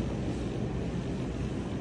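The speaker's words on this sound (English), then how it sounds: "Definitely a windy day out here today." Wind blows hard across an outdoor microphone on a windy day, a dense steady roar with low rumbling buffets filling the whole moment.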